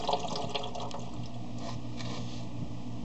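Fuel running out of a Volkswagen Beetle tank through a hose, a steady liquid trickle and gurgle that holds at an even, moderate level, close by with no talking.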